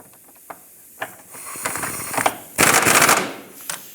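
A ratchet tightening the rear trailing arm bushing bolts on a 2012-2020 Ford Focus: a few isolated clicks, then building bursts of rapid close ratcheting, loudest near the end, with no talk.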